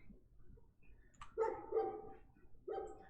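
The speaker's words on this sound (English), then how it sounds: "The barking is getting closer." Dogs in the video game Fear & Hunger barking as they draw nearer: two clustered volleys of loud barks separated by a short pause, fairly close and clear, with no voices.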